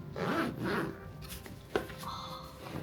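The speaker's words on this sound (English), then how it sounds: "this is like a top secret zipper" Hidden zipper on a Nayo Smart Urban UL1 sling bag being opened, a few short close rasping pulls with a brief sharp catch partway through, no talking.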